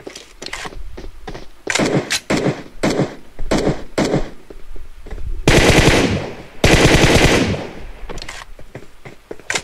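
UMP submachine gun fire in the mobile battle royale game PUBG Mobile: several loud, close, rapid bursts, then two longer sustained volleys, with no voices.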